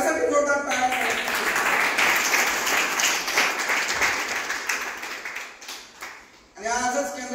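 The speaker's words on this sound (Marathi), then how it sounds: "एकदा माझी विनंती आहे की माझ्यासाठी जोरदार टाळ्या" A hall audience at a health centre's award event breaks into loud, sustained applause for the staff, dense clapping that thins toward the end before a voice cuts back in.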